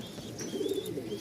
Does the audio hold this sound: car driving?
no